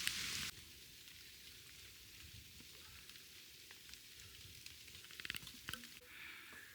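Rain falls steadily on a foggy mountain trail on Woraksan in Korea, a faint, even hiss of drops with a few louder, closer taps and rustles toward the end.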